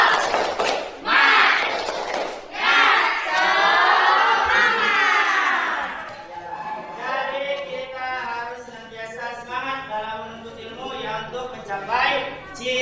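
Sixth-grade class chanting a tepuk semangat clapping cheer together, loud unison shouted voices with rhythmic claps and thuds, first forceful then trailing into looser, rising sing-song chanting.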